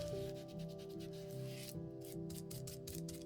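An ink pad rubbed along the edges of paper while crafting CD pockets makes repeated short scratchy strokes, close and soft, over a faint steady background hum.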